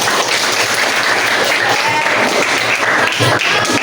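Dense, continuous applause from a classroom full of students fills the whole stretch, loud and close, with scattered voices mixed into the clapping.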